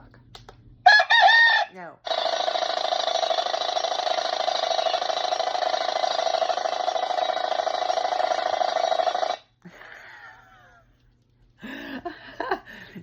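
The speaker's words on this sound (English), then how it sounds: "This rooster is really god darn loud, really loud." A loud rooster crow plays from a super-loud alarm clock built for heavy sleepers, one long sustained call of several seconds, bracketed by brief clicks and a short quieter tail.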